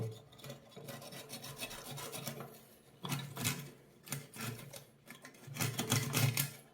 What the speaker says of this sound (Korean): 이거를 케이블 타이를 이렇게 집어넣겠습니다